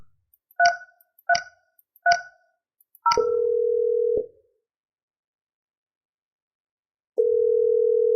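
Mitel 5330 IP phone keys pressed three times with short tonal beeps, a fourth key tone, then a steady dial or ringback tone lasting about a second, a pause, and the tone returning; clean and close with no talk.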